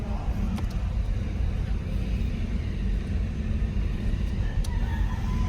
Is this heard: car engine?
yes